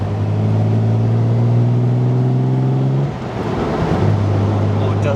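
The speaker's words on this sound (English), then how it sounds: "the engine, the triple carburetors, the overdrive unit, it's second to none" Classic sports car engine with triple carburetors and an overdrive unit, a steady loud idle hum that dips briefly, then settles back to a constant drone.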